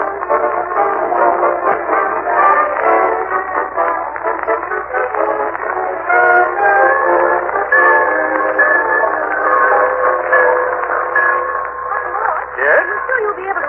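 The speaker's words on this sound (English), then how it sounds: "He and Marjorie and Leroy wait in the Summerfield Railroad Station for the arrival of that well-known authoress" Train at a railroad station as an old-time radio show sound effect: a steady, narrow-band rumble and clatter with whistle-like tones, continuous and fairly loud, under a voice speaking.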